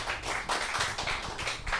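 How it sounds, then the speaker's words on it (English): Applause from a small bar audience at the close of a live Irish show, a couple of seconds of brisk, close clapping with a few louder bursts. "Big round of applause."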